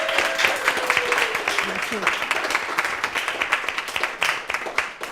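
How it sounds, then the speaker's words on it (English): A congregation at a spiritual community service claps for a newly installed board of trustees, a lively steady round of applause with individual claps showing as it tapers, voices faint underneath. "would you welcome your new Board of Trustee with a round of applause?"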